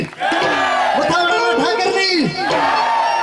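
Crowd at a Tulsi Vivah dak damru devotional program erupts in loud cheering and shouting, many voices whooping close and strong, with clapping blended underneath across the whole stretch.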